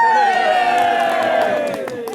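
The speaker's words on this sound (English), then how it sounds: "Applaud the best man." Wedding guests cheer and whoop for the best man at a reception, a dense crowd roar with a few shouts and scattered claps, loud and close, tapering slightly near the end.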